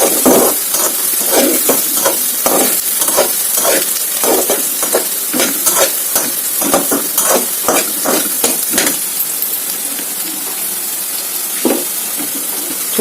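Food frying in a pan is stirred with a utensil, giving a loud, close, steady sizzle broken by repeated scraping strokes that thin out toward the end.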